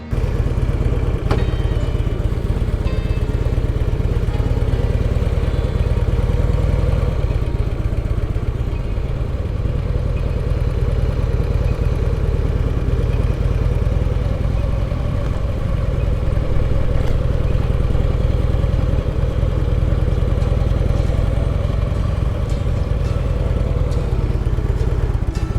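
A Harley-Davidson motorcycle cruising with a H.O.G. riding group gives off a steady, loud engine drone with road rumble, continuous for the whole stretch and with no talking.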